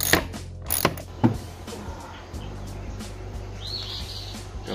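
Bolts and lock nuts being tightened on a 2014 Polaris Sportsman 550 Touring ATV: a few close metallic ratchet clicks and clanks, then steady background hum with faint bird chirps, no talking.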